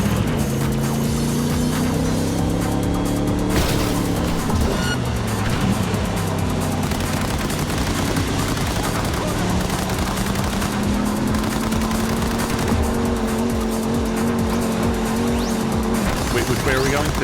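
A car driving in Cyberpunk 2077, with a steady engine drone rising and falling in pitch under bursts of gunfire, and voices talking over it.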